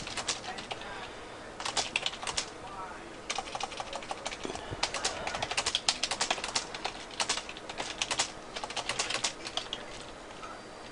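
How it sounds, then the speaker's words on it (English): Rapid clicking of keys on a computer keyboard, typed in irregular bursts with short pauses, close and fairly quiet. "we're going to just type in something"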